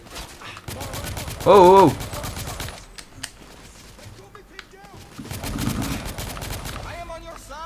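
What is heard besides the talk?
gunfire in the video game The Order: 1886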